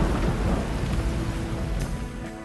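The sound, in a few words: heavy rain with thunder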